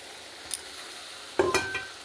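A cashew and poppy seed paste with spices fries in a pan for a cabbage and capsicum dish. Under a soft steady hiss, a spatula gives a brief scrape followed by a short cluster of clinking stirs, close but fairly quiet.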